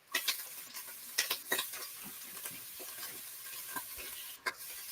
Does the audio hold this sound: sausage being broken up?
yes